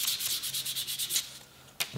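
A piece of a sharpening strop is lightly sanded by hand in quick, rhythmic back-and-forth strokes, close and raspy, slowing near the end before a final scrape.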